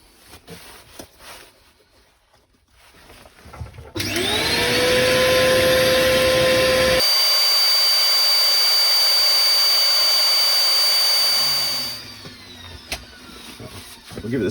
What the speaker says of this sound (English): Right, sanding.